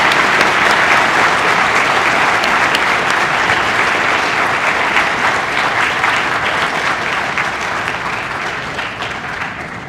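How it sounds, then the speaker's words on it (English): Audience applause at a high school Veterans Day assembly honoring veterans and active service members: dense, sustained clapping from a large crowd that fades slightly toward the end. "Please join us in one more round of applause for all of our veterans and active service members."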